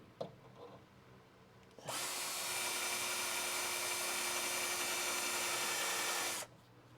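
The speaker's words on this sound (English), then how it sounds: "drilling a pilot hole with a spot weld cutter" A spot weld cutter bores a pilot hole in car body sheet metal during a crew cab Charger restoration, a loud steady grinding whir running about four and a half seconds close by, starting and stopping abruptly.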